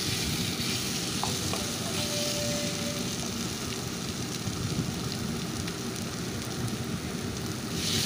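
Masala cooked with yogurt for bhola fish curry sizzles in a pan as a dense, continuous hiss like steady rain, with a few faint clicks, no talking.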